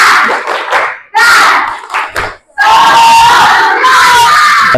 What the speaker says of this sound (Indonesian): Sebelum ditutup, satu kali tepuk semangat.